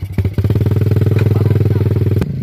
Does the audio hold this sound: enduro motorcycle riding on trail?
yes